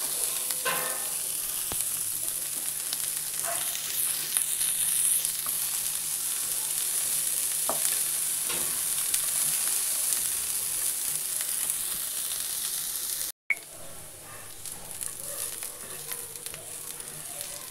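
Chopped onions fry in a pan with a steady, close hiss of sizzling oil, joined now and then by scraping stirs and light spatters, broken by a brief cut near the end.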